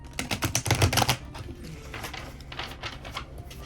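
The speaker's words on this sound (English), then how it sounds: "trying to a rifle shuffle here" Large playing cards are rifle shuffled, a quick flurry of crisp close riffling clicks followed by softer, scattered card flicks as the deck is squared.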